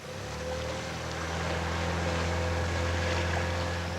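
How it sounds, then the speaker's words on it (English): An outboard motor drives a small boat along a flooded Amazon tributary, a steady low drone throbbing close by with wind and water noise washing over it. "His son manned the outboard, when it worked."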